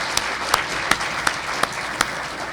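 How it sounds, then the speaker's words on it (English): An audience at a professional seminar on capacity and consent law applauds three panelists with sustained clapping, joined by a few sharper claps at regular intervals, loud and close, with no voices over it. "Let's have a round of applause for all three of our panelists"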